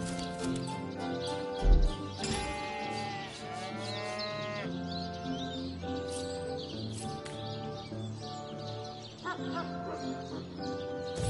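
Cow mooing in Divinity: Original Sin, several long drawn-out lowing calls from cattle among farm-animal ambience, with faint bird calls and livestock sounds layered under game music.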